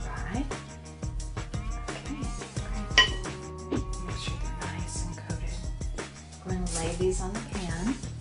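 Food being tossed in a pan to coat it in bread crumbs, with light clinks and clatter of cookware and utensils under steady background music.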